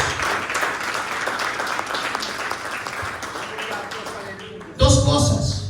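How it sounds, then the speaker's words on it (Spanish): Church congregation applauding God during a Spanish-language Pentecostal service, a dense wash of many hands clapping that swells louder near the end, with voices mixed in. "Denle un fuerte aplauso a Dios."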